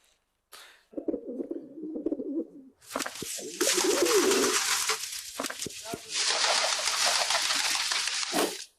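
A wild pigeon's cooing, a low throaty call repeated a couple of times, then a loud steady rushing noise like running water or wind dominates.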